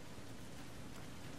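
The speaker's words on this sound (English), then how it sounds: "Here comes the rain." Steady rain falling in the Resident Evil Revelations 2 video game, a dense, even hiss of drops on surfaces that holds at a constant level throughout with no voices.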